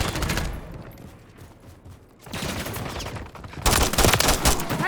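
Bursts of automatic gunfire and rapid shots in the Call of Duty Modern Warfare 3 video game, loud sustained volleys that fade briefly and then return harder toward the end, with no talking.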